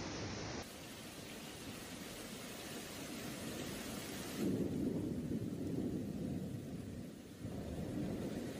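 A heavy thunderstorm with hail in Rome, a dense roaring wash of rain and hail with low rumbling thunder swelling midway, continuous and unbroken.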